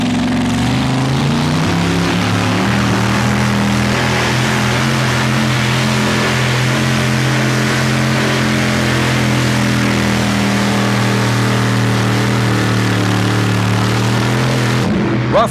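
A heavy truck engine roars loudly and continuously at high load on a pull track, a deep sustained drone that holds steady before cutting off near the end.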